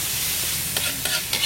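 Goat meat fries for tongseng at a long-running goat satay stall, a loud continuous sizzle with a few sharp stirring scrapes.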